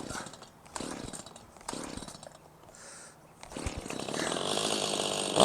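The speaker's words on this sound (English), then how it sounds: "here we go again with the chainsaw" A Stihl chainsaw that will not stay running sputters and idles unevenly, then revs up into a loud, steady buzz that holds until the end of the clip.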